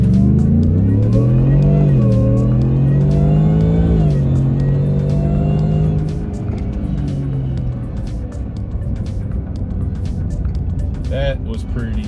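A supercharged 2023 Ford Shelby F150 Super Snake truck accelerating hard, loud engine and supercharger whine rising through the gears, then easing to a steadier drone as the revs settle.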